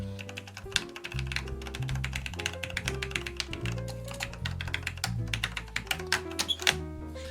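Typing on a restored Italian IBM clone keyboard in the style of the Model F, fitted with early linear Cherry switches: a dense, steady run of close key strikes and thocks, with a low hum underneath and no talking.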